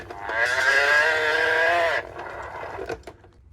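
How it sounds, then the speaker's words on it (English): A vintage toy cow gives one drawn-out, slightly squeaky electronic moo lasting about a second and a half, then cuts off abruptly into quiet. "here's a cow. The cow says."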